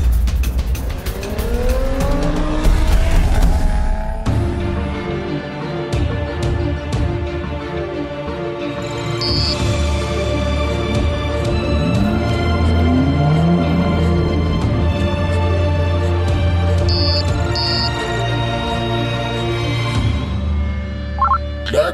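A Lotus Evora 400 engine drones loud and steady throughout while it is driven, with rising revs early on and sustained harmonic tones held at cruising speed.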